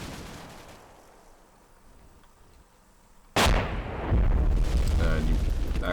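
An ATGM fires in the war game Combat Mission: Black Sea. After a quiet stretch, a sudden loud blast erupts and then a heavy, sustained rumble with crackle that stays loud to the end.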